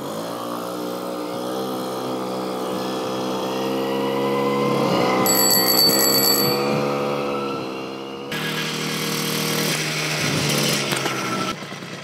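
A Puch Maxi N moped engine runs continuously and loudly up close, its two-stroke drone rising in pitch as it revs, then settling, with a short bell-like chime partway through.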